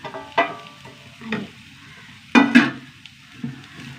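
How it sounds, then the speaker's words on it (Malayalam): Finely chopped carrot goes into a pan of sautéed onions, giving a soft sizzle with scraping stirs and a couple of sharper clinks of a utensil against the pan, close up and without speech. "ഉള്ളി വഴണ്ട് വന്നു ഇതിലേക്ക് ഒരു ക്യാരറ്റ് ഇട്ടാൽ നല്ല പൊടിയായി അരിഞ്ഞതാണ്"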